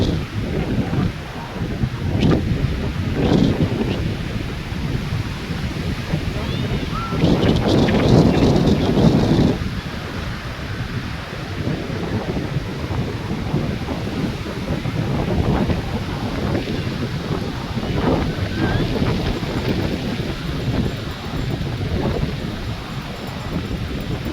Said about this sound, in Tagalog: Grabe, kalakas ng hangin dito sa Baler. Hangin at saka alon.